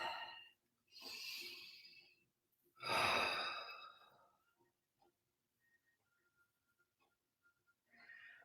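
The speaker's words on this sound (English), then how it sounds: "So just close your eyes and take a deep breath." Slow deep breaths during a guided meditation, two long audible exhales close to the microphone separated by silence, followed by a quiet stillness with faint small noises.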